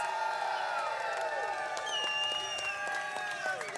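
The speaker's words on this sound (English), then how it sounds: "Come on, round of applause." A crowd claps and cheers steadily throughout, with scattered whoops and voices rising over the dense, continuous applause.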